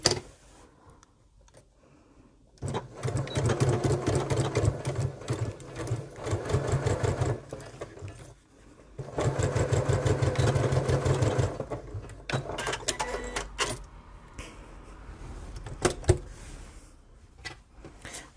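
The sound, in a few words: sewing machine stitching two fabric pieces together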